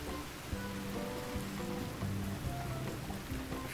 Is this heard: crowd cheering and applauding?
no